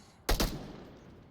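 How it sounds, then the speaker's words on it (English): Two sharp gunshot bursts in quick succession in the VR shooter game Onward, loud and close, followed by a lingering echoing tail; no voices. "hearing all these gunshots, trying to get a peek"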